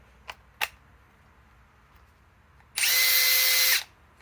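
Metabo HPT Triple Hammer Bolt cordless impact wrench on a flex battery whirs loudly for about a second then cuts out, after two short clicks and near-silence.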